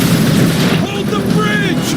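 Dense, continuous weapon fire and rumbling booms fill a battle in Transformers: Fall of Cybertron, loud and unbroken, with voices briefly calling out over it.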